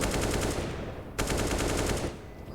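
Counter-Strike gunfire shot through walls on the Overpass map in a pro match: rapid automatic bursts rattle in a steady rhythm, broken by a short pause and a sharp crack before firing resumes, at moderate level.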